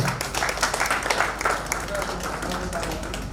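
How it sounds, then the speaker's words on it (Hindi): An audience at an Arthritis Day medical event claps steadily in a dense, continuous round of applause, with people talking over it. "आप तालियां बजाएं"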